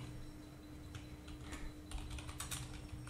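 Computer keyboard keys click as a shortcut is typed during design work in Figma, a few soft, close taps that cluster into quick bursts over a faint steady hum, with no talking.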